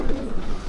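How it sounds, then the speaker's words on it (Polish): Young racing pigeons cooing in a loft crate, a soft, steady low murmur of coos from several birds close by, with no talk over it. "Jesteśmy na wkładaniu właśnie gołębi młodych."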